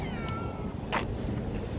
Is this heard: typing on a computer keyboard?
no